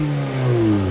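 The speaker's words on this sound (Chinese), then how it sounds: "除了听到它的 exhaust 声音" NCP150 Toyota Vios 1.5J with its 1NZ-FE engine and four-speed automatic, driving uphill on the Genting road; its exhaust gives a steady, close, droning hum that swells slightly over a brief moment.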